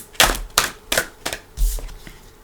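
Tarot cards are shuffled in a series of five sharp, close riffling bursts, each a brief papery flutter separated by short pauses.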